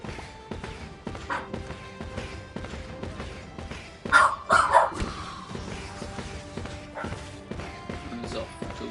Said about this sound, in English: Apologies if you can hear my dog barking in the background.